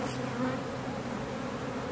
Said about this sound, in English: That's why sometimes you disturb your bees.